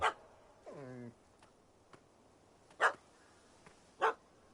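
A dog in The Witcher 3 game gives a short whine, then several sharp, spaced barks at moderate distance over a quiet ambient background.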